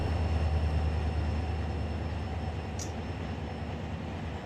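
Train rolling along in Run 8 Train Simulator on the Mojave Sub, a steady low rumble with continuous mechanical drone, heard up close from a following camera, with no talk.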